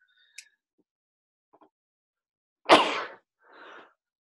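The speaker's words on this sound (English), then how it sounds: "I get to show you how to sneeze properly into your elbow." A single person sneezes into an elbow during a lecture, one short sharp burst followed by a softer trailing breath in an otherwise quiet room.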